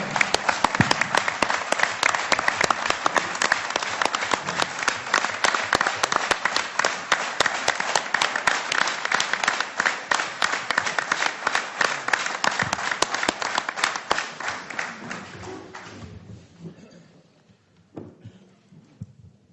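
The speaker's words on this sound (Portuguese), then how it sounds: "Eu peço um aplauso para o Miguel." An audience at an information session applauds a club's next president-elect with dense, crackling clapping that holds steady for about fourteen seconds, then thins to a few scattered claps and dies out.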